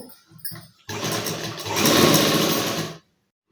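A sewing machine stitches thread piping onto cloth. A brief clatter comes first, then a loud, steady, fast whirring run of roughly two seconds that stops abruptly. No one talks over it.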